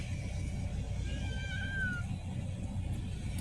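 A cat lets out a drawn-out meow over a steady low rumble of background noise at a camp in Jeddah, one cry rising and falling.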